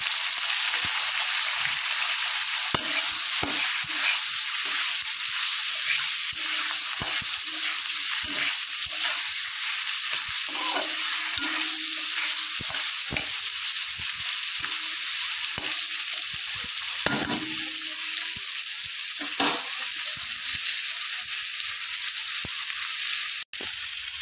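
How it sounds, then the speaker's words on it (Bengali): Hilsa fish heads fry in hot oil with a steady, loud sizzle that runs throughout, and occasional faint utensil scrapes break through it. "মাছের মাথা ভাজা হয়ে গেছে, এবার আমি তুলে নেব।"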